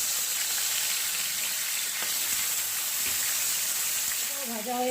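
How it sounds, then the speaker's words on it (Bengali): Dense, continuous hiss and sputter of pabda fish frying in oil, close and even in level, with a faint tonal sound rising near the end. "একইভাবে আমি আর অন্য মাছগুলো ভেজে নিচ্ছি"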